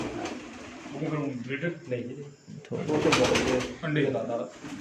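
Pigeons on a rooftop loft coo in low, rolling bursts close by, heard under someone talking steadily throughout.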